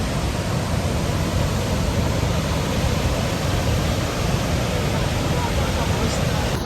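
Water pours over Niagara Falls in a dense, continuous roar, a broad steady wash of sound that fills the scene without letting up from start to end.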